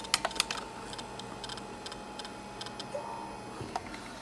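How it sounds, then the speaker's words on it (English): An Iomega REV removable-disk drive copying data makes quiet, irregular ticking clicks from its read/write head, small bursts spread through a low steady hum, close and faint with no talk. "It just does the usual, you know, clicking of the read and write head"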